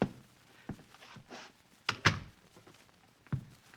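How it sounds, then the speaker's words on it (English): An interior door in a radio drama closes with a few soft thuds and a latch click, fairly quiet and close, with no voices over it. "Close the door."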